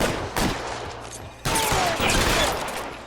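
Gunfire in the video game L.A. Noire, with a sharp burst of shots near the start and another loud volley midway, over a continuous noisy game backdrop.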